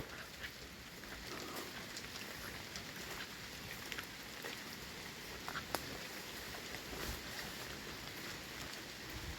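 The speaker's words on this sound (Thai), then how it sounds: "ฝนก็ตกมาอีกเลย" Steady rain falls outdoors in rural Laos, a dense continuous patter on surfaces with occasional sharper drops, heard alone with no talk.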